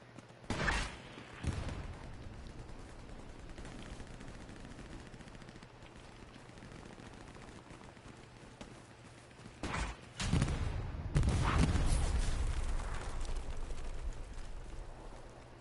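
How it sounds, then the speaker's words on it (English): A teammate's gun blasting across a cornfield in the WWII shooter Hell Let Loose, with sharp bursts of fire near the start and a louder, longer volley later over a steady rumble of battle. "one of my teammates is blasting this cornfield"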